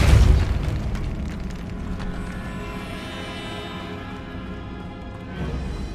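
The Depulso spell in Hogwarts Legacy lands with a deep, loud boom at the start, then a rumbling tail that slowly fades and swells slightly again at the end.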